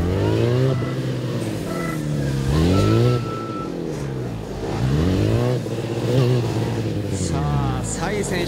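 A Kawasaki ZX-10R sport motorcycle on a race course revs hard through the gears, its engine pitch repeatedly climbing and dropping at close range, loud and continuous.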